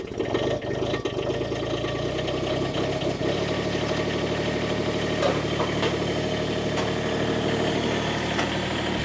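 A mini skid steer's engine warms up at idle, a steady mid-pitched mechanical drone with light knocking and vibration running continuously and close by.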